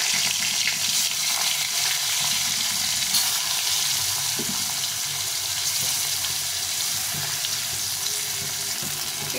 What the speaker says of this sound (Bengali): এখন বাকি মাছগুলো ভেজে নেব এই তেলে।